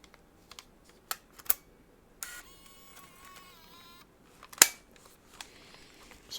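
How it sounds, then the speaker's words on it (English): Mini DV tape camcorder being handled and opened, giving a run of small plastic clicks and snaps with one sharper crack near the end, close and fairly quiet. "Mini DV camera. Takes tapes. Right? Let's see if I can open it."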